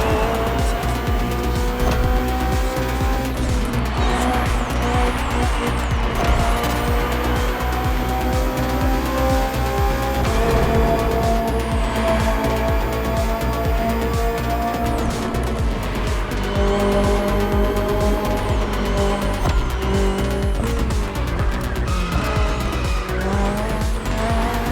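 A BMW M Hybrid V8 endurance race car from The Crew Motorfest drives hard, its engine roaring loud and close throughout with rising and falling revs through gear changes and repeated tire squeal, with no voices.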